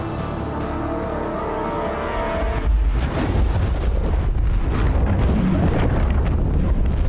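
A nuclear bomb detonates in The Expanse: A Telltale Series, a sudden heavy roar that swells into a sustained, dense rumbling blast, loud and close, after a steady low hum.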